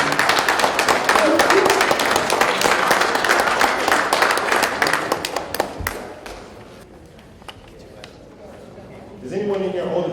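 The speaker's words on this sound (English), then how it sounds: "Can I get a round of applause for Sonjedi?" Audience applause at a community event in Baltimore honoring elders: dense, steady clapping fills the room for several seconds, then thins out and fades, with voices talking underneath.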